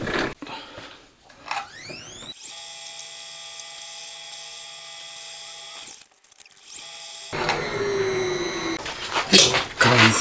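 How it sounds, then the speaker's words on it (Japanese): Machine tool cutting a counterbore into a small metal part for a cam bearing holder on a Honda Monkey engine build whines with a steady tonal drone for several seconds, framed by clattering workshop handling before and after. "あとはザグリ穴と面取りですね"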